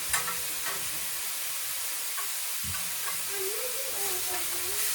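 Beef fries in a buttered pan with a soft, steady hiss and sizzle that holds at a low level, a few faint clinks and a quiet tonal whine near the end, no talking.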